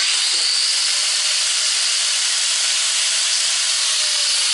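A plasma cutter slicing through metal gives a loud, continuous broadband hiss that holds steady and unbroken from start to finish.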